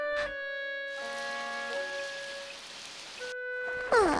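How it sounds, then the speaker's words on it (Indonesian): Steady hiss of heavy rain throughout, with tonal musical notes and synth sweeps layered over it at the start and end. "Sekarang sedang hujan deras."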